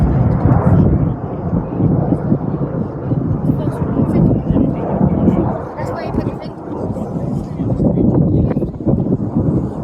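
Roaring jet engine noise from Red Arrows aircraft flying a display at Shuttleworth, a broad continuous rumble with wind buffeting, heard outdoors under an announcer's commentary.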